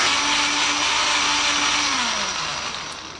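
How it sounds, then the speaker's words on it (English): A household blender buzzes steadily as it blends spinach, loud and close, with a motor tone that slides down as it slows near the end. "add it to a household blender"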